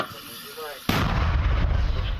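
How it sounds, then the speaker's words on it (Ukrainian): Talk is cut off by a sudden loud 120 mm mortar blast, followed by a heavy rolling boom and reverberating rumble outdoors. "Зараз будемо працювати зі 120-х мінометів"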